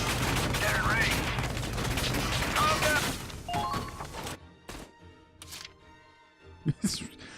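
Rapid bursts of gunfire and explosions from Valkyria Chronicles 4 crackle densely at first, then thin into scattered shots and impacts.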